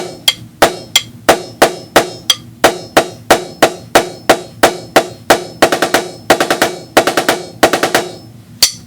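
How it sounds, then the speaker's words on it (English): Snare drum strokes ending a paradiddle-diddle rudiment: sharp, evenly spaced single hits that speed into tight clustered groups near the end, loud and close with no voices. "This is the end of the paradiddle-diddle, where we have this 1 and 2 and 3 and 4 and 1"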